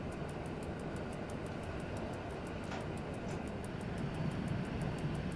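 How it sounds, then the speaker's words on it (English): An underground tube train approaches in the railway simulator SimRail as a steady, broad rumble that builds slightly toward the end, with a faint rhythmic ticking on top. "Sounds like an underground train."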